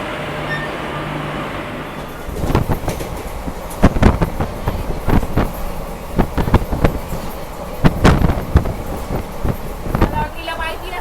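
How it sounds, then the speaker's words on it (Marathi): Rumbling train noise from a WAP-4-hauled train with clattering bursts and rushing wind as it overtakes a goods train close alongside, loud and continuous. "आता आपली ट्रेन हिला ओव्हरटेक करते"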